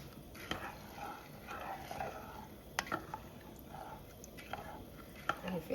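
A spoon stirs yellow vegetable rice with turmeric in a pot, making soft scraping and wet shuffling sounds with a few sharp clinks against the metal, quiet and close.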